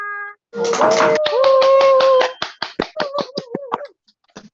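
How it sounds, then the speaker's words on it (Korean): A group claps together to open a class, a dense burst of clapping that breaks into separate rhythmic claps, with voices and tonal sounds mixed in over it. "오늘 박수 소리 너무 좋고"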